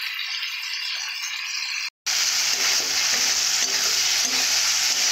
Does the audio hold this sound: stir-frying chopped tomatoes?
yes